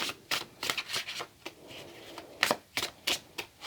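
A deck of tarot cards being shuffled close by: a quick run of crisp riffling bursts and soft card slaps in an uneven rhythm, quiet, with no one speaking.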